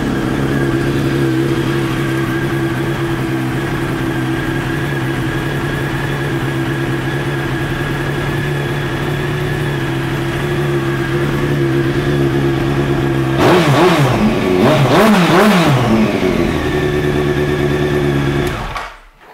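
A 2001 Honda CBR929RR idles with a steady, fairly loud drone for a long stretch, then blips through two rising-and-falling revs near the end before cutting off abruptly.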